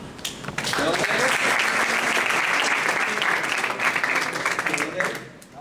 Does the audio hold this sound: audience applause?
yes